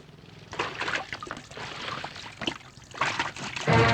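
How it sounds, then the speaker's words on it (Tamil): Petrol is poured into a vehicle's tank as a steady trickling, gurgling liquid flow, close and moderately loud, with a few sloshing bursts and a louder splash at the end. "வண்டில பெட்ரோல் ஊத்து"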